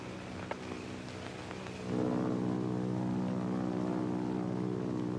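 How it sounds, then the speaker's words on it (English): An army plane passes overhead in a 1947 film, a low, distant engine drone that swells in and then holds as a steady hum, with a faint click early on and no talk. "Might be Army plane."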